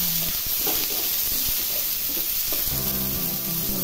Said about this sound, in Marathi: थोडे 2 मिनिट परतायचं।